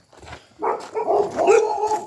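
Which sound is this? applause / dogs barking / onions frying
dogs barking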